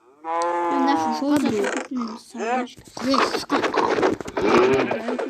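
A cow gives a long, loud moo up close, followed by animal calls and people talking over the scene.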